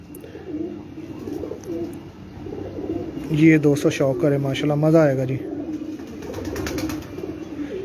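Pigeons coo softly in the background, low rolling calls repeating throughout on a rooftop loft of champion racing pigeons, while someone speaks over them in the middle.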